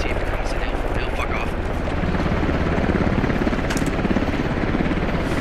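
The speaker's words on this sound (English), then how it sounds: "That's a heli coming in." Helicopter coming in to land in a realistic squad-based shooter video game, a loud continuous rotor thump and engine whine with rhythmic chopping, while players talk over it.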